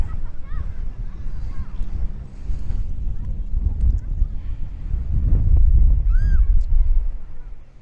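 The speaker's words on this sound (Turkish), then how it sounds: "Çok rüzgarlı bu arada." Strong wind buffets the microphone on an ocean beach in Uruguay, a loud low rumble with gusts swelling near the end, faint high chirps in the background.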